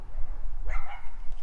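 Dogs outdoors give a single brief bark or yelp at middle distance, over a steady low rumbling background.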